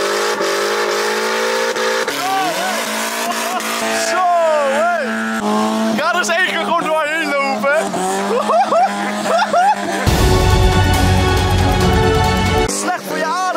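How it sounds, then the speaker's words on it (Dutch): A car is revved hard at full throttle, its engine note rising and falling in wavering sweeps, with loud tire squeal and a rough burst of noise late on, while someone talks over it. "Dit is letterlijk gassen totdat je auto kapot is."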